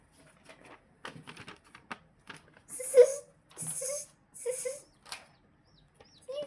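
A person imitates a baby chick's cheeping during an animal-sound imitation game, giving a few short, high vocal bursts close to the mic amid light clatter and brief speech-like sounds.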